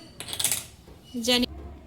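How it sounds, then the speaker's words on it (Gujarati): A metal cooking pot is set down on a gas stove, giving two short clanks with a brief metallic ring, close and fairly quiet. "ત્યારબાદ તપેલી મૂકી દઈશું"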